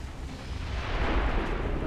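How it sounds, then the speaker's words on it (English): Explosions during a mission in the XCOM 2 video game, a rumbling blast swelling into a dense, sustained roar lasting about two seconds. "We have random explosions. That's never a bad sign."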